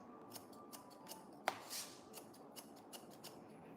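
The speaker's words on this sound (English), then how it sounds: "I'm using texturizing scissors. This is not my classic scissors." Texturizing scissors snip through a client's hair during a short haircut, a string of quiet, crisp metallic clicks spaced roughly evenly, with one sharper, louder snip standing out near the middle, close and faint overall.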